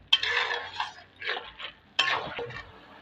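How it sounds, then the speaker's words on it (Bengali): Fried bundiya being stirred in a pan, heard as two bursts of scraping and clattering utensil strokes with a brief quiet gap between them, close and fairly loud, with no talk. "বুন্দিয়াগুলো এর মধ্যে দিয়ে দিচ্ছি। ভালো করে নেড়ে ছেড়ে নিচ্ছি"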